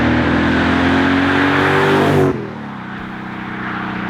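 Audi S4 fitted with a Fast Intentions exhaust, revving loud and steady with a dense engine drone before dropping sharply to a lower idle-like rumble partway through, with no voices.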